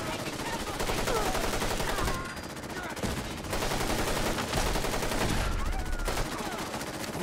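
Sustained rapid gunfire in Fallout 4 with the Sim Settlements Conqueror mod, dense and loud, running almost without pause with a couple of brief dips, with a little talk mixed in.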